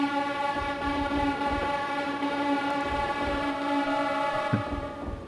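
A train running in the Nintendo 64 railway game Densha de Go! 64 gives off a steady layered electric whine with several sustained tones over a low rumbling chug, continuous and fairly loud with no voices.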